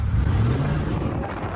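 Cybertruck and Ford F-150 accelerating hard in an off-road race, a loud, continuous engine roar with rising low rumble and wind-like broadband noise throughout, close and steady.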